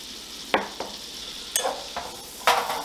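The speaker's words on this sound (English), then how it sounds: "I've got about 3 tablespoons of butter I'm going to throw in here. I'm also going to go ahead and add a little bit of olive oil." Butter and olive oil sizzle in a hot pan under a soft steady frying hiss, broken by several sharp scraping and stirring knocks of a utensil against the pan, close and clear with no talking.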